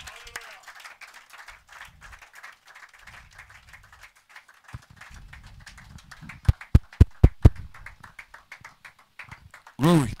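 A church congregation at a French-language worship service claps in scattered bursts under ongoing speech, building to several sharp, loud claps near the end.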